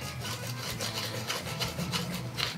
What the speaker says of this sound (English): I do want to thank one of our viewers for sending me this nutmeg grinder.